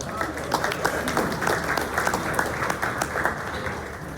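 A round of applause for a Baskin Robbins shop in Corona at a community gathering honoring police and fire, a steady crowd of clapping hands that holds evenly throughout.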